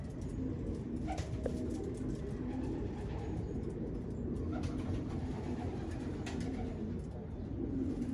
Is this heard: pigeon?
yes